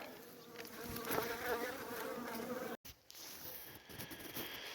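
Dense, steady buzzing of many honey bees close by at a hive, continuous throughout with a brief dropout near the middle.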